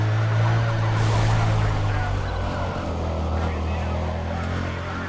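Helicopter circling overhead during a police chase in Need for Speed: Undercover, a steady droning rotor and engine hum blended with car engine noise, continuous and moderately loud under someone talking.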